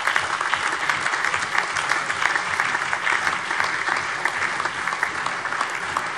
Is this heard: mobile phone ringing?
no